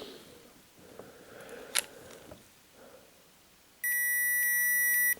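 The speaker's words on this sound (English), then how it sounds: "No, that was me shorting out the probe." A multimeter gives a sudden, steady high electronic beep when its probes short together during a repair of a 17IPS20 board, heard close and alone after a few faint clicks and taps.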